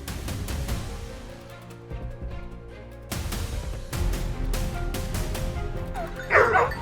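Hunting dogs bark in bursts at a moderate distance while tracking wild boar, with short yips and whimpers scattered between louder barks.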